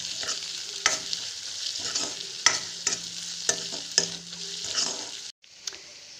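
Food fries in a pan while being stirred, a bright continuous sizzle close by, punctuated by repeated scraping and clinking strokes of a spoon, then a brief drop before the sizzle resumes.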